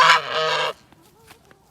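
A single goose in a farmyard near a chicken pen lets out loud, close honks in a quick burst, then goes quiet with faint yard noise after.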